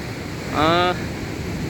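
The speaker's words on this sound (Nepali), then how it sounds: "हाम्रो काली र म्याग्दी दुवै खोला उर्लिएर आफ्नो चाहिँ नियमित सतहभन्दा अत्यन्तै माथि आएको छ।" The swollen Kali and Myagdi rivers rush at the Beni confluence after heavy rain, a constant broadband roar with a brief tonal sound rising over it midway.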